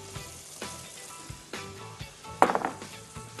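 Flour-coated chicken pieces frying in hot oil give a quiet, steady sizzle, with a few soft clinks of a pan or utensil and one brief louder crackle near the end.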